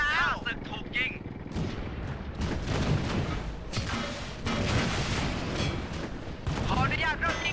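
Tank cannon and rapid gunfire in World of Tanks, a series of loud booming shots and crackling bursts, with someone speaking over the battle.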